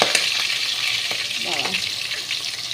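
Prawns frying in hot oil in a wok, a close bubbling sizzle with a few wet crackles and stirring sounds throughout.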